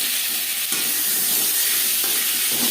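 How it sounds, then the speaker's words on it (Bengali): Boiled potatoes coated with salt and turmeric frying in hot oil, a steady bright sizzle and hiss that continues unbroken with a few faint spatters, close by and alone. "আলু ভেজে নেব"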